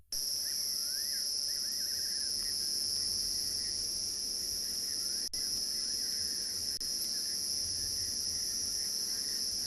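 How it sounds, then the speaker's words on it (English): Night chorus in the African bush at sunset: steady, loud, continuous cricket and cicada trills with intermittent softer chirps of a fiery-necked nightjar and scops owl underneath, constant throughout with no talking. "the wonderful sounds of the bush, the cicadas, the crickets"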